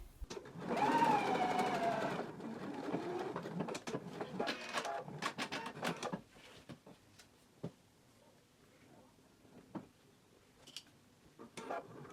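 A sewing machine stitches a knit dress from Simplicity pattern 8874, whirring in a loud burst of rapid stitching for a few seconds, then falling to sparse clicks and short ticks as the fabric is handled.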